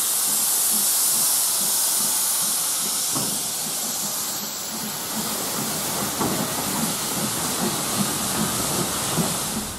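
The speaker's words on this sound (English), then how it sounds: "an old steam railway" Old steam train at a heritage steam railway, giving off a loud, steady hiss of steam that runs through the whole stretch, with faint rhythmic clanking and rail noise underneath.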